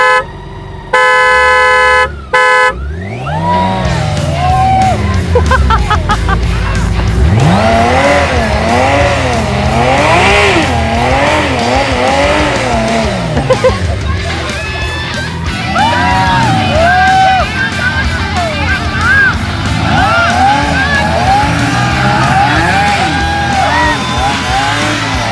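A BMW motorcycle in a rope tug-of-war test, after three short horn toots, revs hard with rising and falling engine whines and tire squeal while the rear tire smokes, loud and close throughout.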